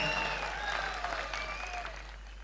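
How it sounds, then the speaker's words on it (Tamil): An audience at a Makkal Needhi Maiam election rally, where the Lok Sabha manifesto is being presented, breaks into a steady burst of applause. Faint whistle-like tones are heard within the clapping. "ஆண்களும் சேர்ந்து கைத்தட்டலாம்"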